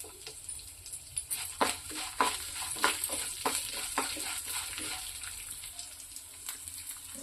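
Crushed garlic fries in a pan with earlier-fried ingredients, a soft steady sizzle broken by a run of sharp clicks and scrapes from stirring, close and fairly quiet, with no speech.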